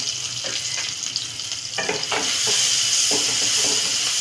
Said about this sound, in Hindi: प्याज को फ्राई कर लेंगे, बराबर चलाते रहेंगे ताकि प्याज जले ना।